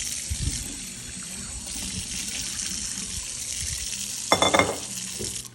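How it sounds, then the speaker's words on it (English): Tap water running into a bowl as it is rinsed out, a steady close splash with a brief louder burst of sloshing near the end; no talk. "I'm going to rinse out the bowl."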